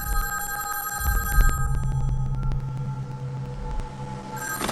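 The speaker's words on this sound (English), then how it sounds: "Tyler later calls the narrator on a payphone that doesn't accept incoming calls" A payphone bell rings in a film scene, a steady electronic telephone ring repeating clearly over a low background hum for several seconds, with no talk.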